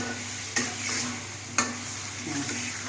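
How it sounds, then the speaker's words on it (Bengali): Rohu fish and okra sautéing in a pan: a steady soft sizzle with two sharp stirring scrapes about a second apart, close and fairly quiet, with no talking. "ভেন্ডি দিয়ে দিয়ে মাছগুলারে ভালো করে কষে নিতে হবে"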